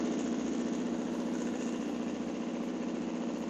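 A PPE delivery motorcycle fitted with a new exhaust idles steadily nearby, giving a continuous low, throbbing putter with an even pulsing rhythm throughout.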